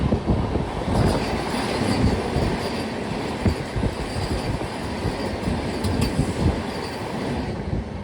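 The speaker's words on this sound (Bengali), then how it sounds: "ট্রেন এখন এসে পৌঁছালো মালদা টাউন স্টেশনে" Darjeeling Mail train pulling into Malda Town station, a steady loud rumble of rolling rail cars with rhythmic wheel clatter and occasional metallic squeals throughout.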